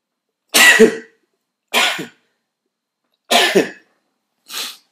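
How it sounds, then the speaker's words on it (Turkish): A person lets out four explosive, sneeze-like bursts close to the microphone, evenly spaced with short silences between them, the last one softer than the rest. "Bu arada bir hapşırayım"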